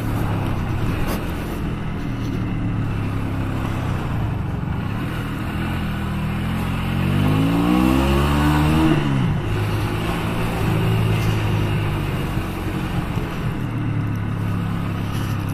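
Honda Shadow 125 motorcycle being ridden, a steady droning engine with wind rush throughout, swelling in a revving climb midway before settling back to cruising, heard from the rider's position.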